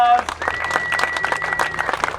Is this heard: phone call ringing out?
no